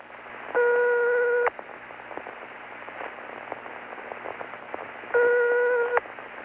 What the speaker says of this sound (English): In Luxembourg, when the number you have dialed is ringing, you'll hear this tone.